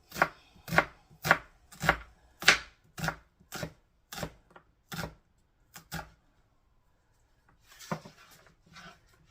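Knife chopping through a baked potato on a cutting board, about ten crisp, evenly spaced thuds close up, then a pause and a few softer, scraping cuts.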